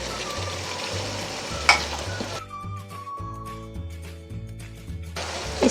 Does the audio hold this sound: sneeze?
no